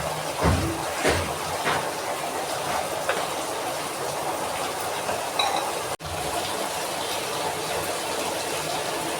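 Masala spices fry in oil in a pan, giving a steady close sizzle with stirring scrapes and a brief break near the middle, with no talk.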